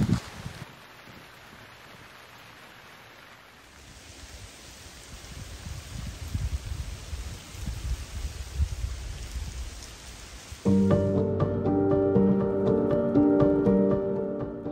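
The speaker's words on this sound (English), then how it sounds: "my apple picking has been thwarted by rain, so I need to go inside" Steady rain pattering outside a chateau, a soft continuous hiss that builds in density, later joined by a louder tonal sound that masks it toward the end.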